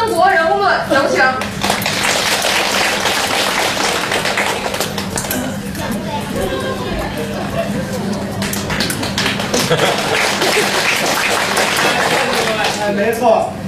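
Sparse, scattered clapping from a small audience at a Chinese crosstalk comedy show in a teahouse theater, thin and uneven taps running beneath a performer's talk.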